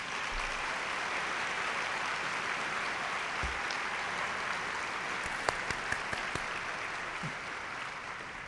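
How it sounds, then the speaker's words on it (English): Applause for Rashad at a YWCA spring breakfast, a steady, fairly faint wash of many hands clapping through the whole stretch, with a few sharper claps standing out near the end. "I would like for all of you to give a round of applause for Rashad."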